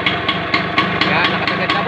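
A Suzuki RS 100 motorcycle engine runs at high idle close by, a loud steady two-stroke putter with regular pulsing beats during carburetor tuning.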